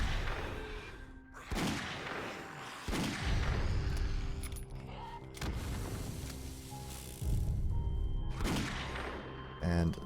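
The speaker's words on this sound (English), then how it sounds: "that explosion was one of those oil barrels being hit by a zombie" Oil barrels explode at a gas station in the zombie survival game 7 Days to Die, with several heavy booming blasts spaced a few seconds apart over a rumbling game soundscape.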